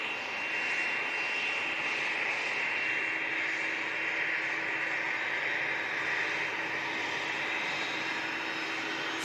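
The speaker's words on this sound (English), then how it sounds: "But the Qatar just crossing the active arrivals runway there now." A Qatar Airways Airbus A350-1000 taxis across an active arrivals runway at Manchester Airport in thick fog, its jet engines producing a steady, moderately distant whine and hiss that stays even throughout with no voices.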